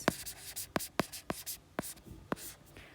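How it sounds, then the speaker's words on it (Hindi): Chalk or pen strokes while writing out a proof that the square root of 2 is irrational, heard as six sharp, separate taps and scratches spaced roughly half a second apart, close and fairly quiet, with no talking. "तो आप लिख दोगे यहाँ पर कि ये मेरी क्या आ गई, कॉन्ट्राडिक्शन आ गई"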